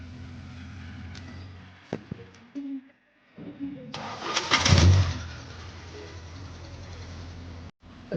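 A car engine, MK1 Jetta, cranks and fires after a starter bushing replacement, catching with a loud rev before settling into a steady idle, close by.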